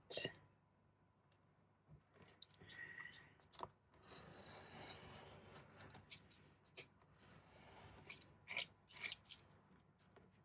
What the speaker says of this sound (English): So we'll trim this nice and flat.